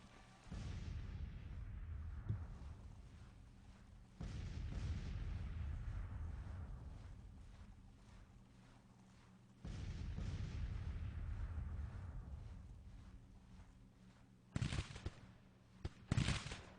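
Artillery fire in Grand Tactician: The Civil War rumbles as long, low, rolling booms in several waves, fairly faint and distant, with a cluster of sharper close pops near the end and no talk.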